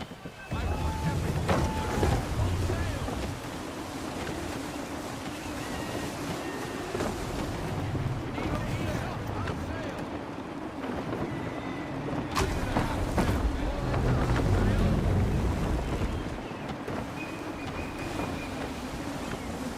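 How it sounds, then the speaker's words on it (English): Gusty wind rushing past a sailing ship in the Assassin's Creed 3 video game, a steady broadband roar with swelling gusts and some water wash, continuous throughout. "Gusty winds can be difficult to manage."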